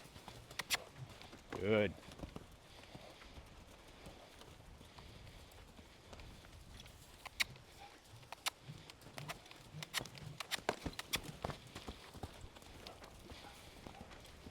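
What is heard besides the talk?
horse hooves cantering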